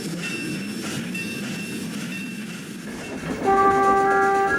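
A steam locomotive hauls a train down the main line with a steady rolling rumble, then a sustained whistle rings out loudly near the end; no voices.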